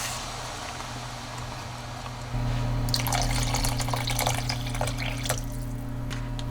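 Water pours into a cooking pan with fried onions, a splashing, gurgling stream that starts abruptly partway through and continues steadily over a low background hum, with no talking.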